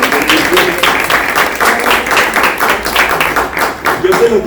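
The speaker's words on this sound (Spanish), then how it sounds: "Un gran aplauso." An audience at a radio talk event breaks into warm, sustained applause, many hands clapping in dense, uneven bursts close by.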